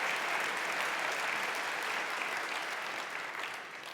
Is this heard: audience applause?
yes